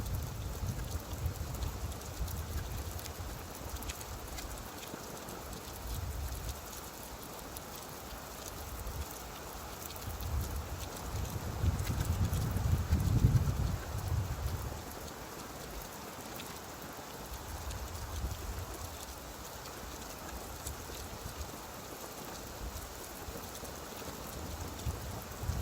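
Steady rain from a rolling storm hisses on and on, broad and even, with soft low rumbles swelling now and then, strongest midway through. No one speaks.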